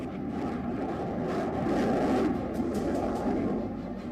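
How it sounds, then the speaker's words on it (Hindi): Indian Air Force fighter jets such as the Mirage 2000, Jaguar and Sukhoi-30 MKI roar overhead during an air show on the Purvanchal Expressway, a loud, steady, unbroken rumble that swells slightly at the middle. "पूर्वांचल के आसमान में आज भारतीय वायुसेना के विमानों की गर्जना सुनाई दे रही थी"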